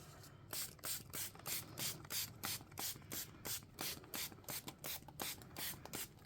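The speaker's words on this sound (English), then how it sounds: "Now I am going to keep an even spray, but around the perimeter I'm going to go a little darker." Rapid repeated spritzes from a pump spray bottle spraying coffee onto paper, a steady rhythm of short hissing bursts, close by and fairly quiet, with no talking.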